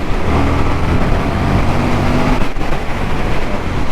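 A 2022 Indian FTR Championship Edition motorcycle pulls hard under acceleration, its engine a loud, steady low roar mixed with wind rush that holds for the whole stretch, with a brief dip near the middle.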